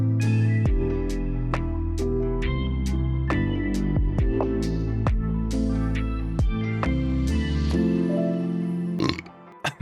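Lofi beat with a changed-up bass pattern that drives a busier section, where steady drum hits sit over a warm, full chord bed. The music runs loud and continuous before cutting out briefly at the end.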